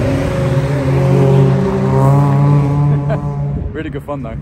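A yellow Porsche at the Cadwell race circuit drones steadily in the distance, its engine note holding and then fading as it passes, while someone talks over the end.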